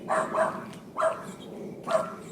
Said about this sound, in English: Usually there's no dog in the backyard. Apologize for that.